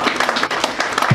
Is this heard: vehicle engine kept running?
no